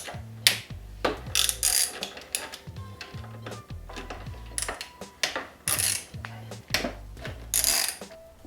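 Ratchet wrench loosening fork clamp bolts on a 2002 Yamaha YZ426F dirt bike, repeated rhythmic clicking strokes in quick bursts with small metallic taps, close and moderately loud.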